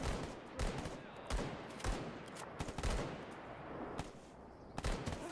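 Rapid bursts of automatic gunfire from a firefight in the shooter game S.T.A.L.K.E.R. GAMMA, loud sharp volleys recurring irregularly across the clip with no talk over them.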